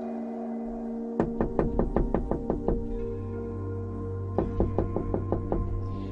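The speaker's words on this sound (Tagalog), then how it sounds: "sunod-sunod na ang pagkatok sa kanyang pinto" Repeated knocking on a bedroom door in two quick bursts, about eight sharp raps, a pause, then six more, close and clear over a low steady background hum.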